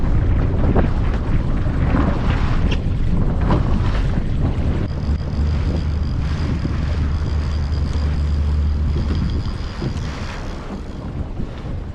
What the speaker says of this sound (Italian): A questo punto aumento il motore, numero di giri sul mio motore principale.